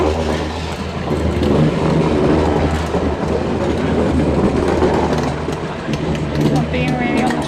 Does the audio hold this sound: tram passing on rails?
yes